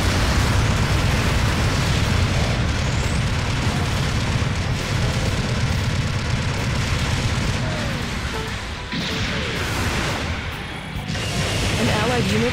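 Heavy booms and rumbling blasts from destroyed mobile suits in the Gundam Battle Operation 2 game, with Heavy Gundam combat, roll on continuously as a loud, dense barrage with scattered bursts and a sharp crack near the end.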